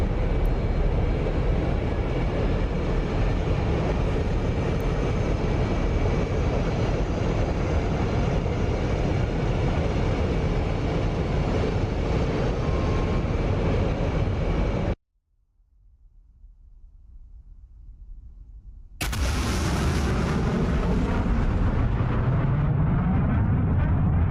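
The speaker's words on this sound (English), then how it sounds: "get a nice supersonic flyby for the Raptor for you guys" An F-22A Raptor in the DCS flight sim makes a supersonic flyby: a loud sustained jet roar cuts to sudden near-silence, then a sharp roaring blast returns and fades away.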